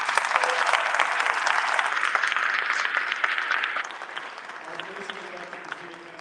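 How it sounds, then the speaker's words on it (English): A dense round of audience applause at a graduate choral conducting masterclass rings out steady and full, then thins and softens toward the end. "Let's give them a round of applause."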